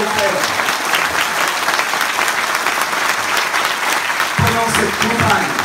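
A large crowd at a political rally in Paris applauds loudly and continuously, dense clapping filling the hall while a voice speaks underneath near the end.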